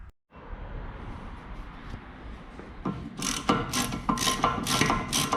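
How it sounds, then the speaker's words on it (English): A ratchet wrench clicks as it loosens the Torx brake caliper mount bolts on a rear wheel of an Opel Meriva, starting after a quiet lead-in with a brisk run of close, sharp ratcheting clicks. "So now I'm turning clockwise to remove the bolts."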